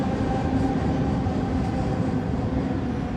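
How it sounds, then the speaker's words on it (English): A maintenance train rolls past nearby with a steady, dense rumble and rail noise that holds at an even loudness throughout, with no talking over it. "That's not a real train. That's like a maintenance train."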